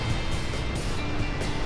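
Atlantic Ocean surf at Rockaway Beach rolls in as a steady, broad wash with gentle swells and some wind rumble on the microphone, no voices over it.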